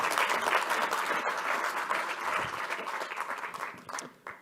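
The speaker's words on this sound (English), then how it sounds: "Ladies and gentlemen, a round of applause for Group CEO and CFO." Audience applause at a corporate capital markets day event as the group CEO and CFO are welcomed, a dense, steady round of clapping from a large crowd lasting several seconds before thinning out.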